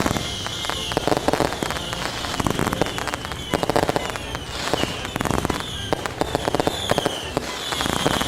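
Professional-grade Fourth of July fireworks set off nearby, a continuous barrage of loud booms, sharp cracks and crackling bursts that never lets up, with a voice occasionally heard under the din.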